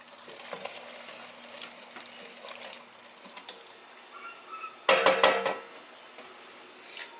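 About two tablespoons of butter melting and sizzling in a pan for an apple cider rabbit stew: a steady soft sizzle with a few light utensil taps, then a brief louder burst of frying near the end.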